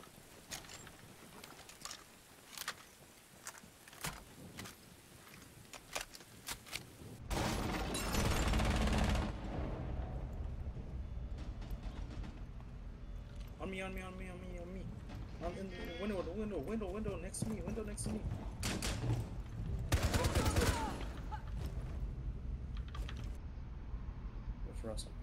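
Rapid light machine gun fire in Rainbow Six Siege, moderately loud bursts over continuous game noise with players talking throughout.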